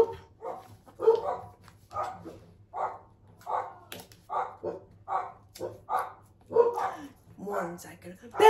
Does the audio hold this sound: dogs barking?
yes